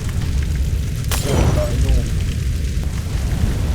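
A single deep boom bursts out in the video game The Front, followed by a rumbling, crackling tail over a continuous low game-like drone.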